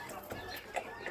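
Chickens on a farm cluck in short, scattered bursts at close range, layered over a steady background with no talking.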